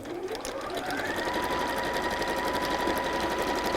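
A sewing machine runs a straight stitch joining two pieces of fabric, a fast close mechanical whirring that picks up speed and then holds a steady hum.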